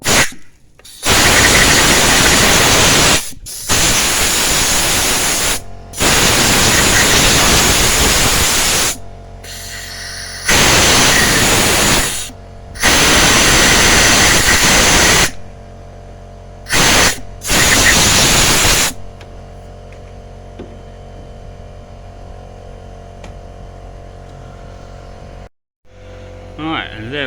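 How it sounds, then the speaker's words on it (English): An air compressor runs in a workshop during a 2009 Mercedes C220 CDI injector bolt thread repair, coming on in several loud, broadband bursts of steady hiss and roar with short gaps, then falling away to a quiet hum. "Noise alert, because the compressor will probably come back on."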